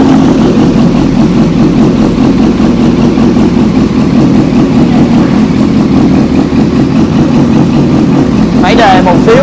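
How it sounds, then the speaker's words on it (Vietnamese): A used motorcycle engine idles steadily through its exhaust pipe, a loud, continuous low rumble that stays even throughout, with a brief rise and a faint squeak near the end. "Thì bây giờ cho anh em nghe tiếng máy của cây bô này."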